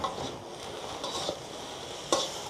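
Egg noodles seasoned with white pepper being stirred in a pan, a soft continuous sizzle with faint scraping and a couple of light clinks of a utensil against the metal.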